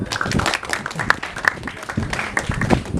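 An audience at a religious talk claps and applauds in a steady, sustained crowd wash, with sharper individual claps popping through and a voice partly audible underneath.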